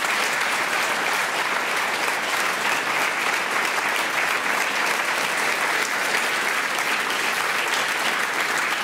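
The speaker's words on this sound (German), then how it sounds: "auch für den warmen Applaus" Warm, sustained applause from a studio audience at a Swiss television debate programme, steady and dense throughout with no break, no voices standing out over it.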